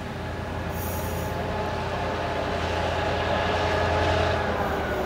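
An IR4 passenger train at Fredericia station gives a steady, loud rumble of running wheels and motors, heard from nearby without letup.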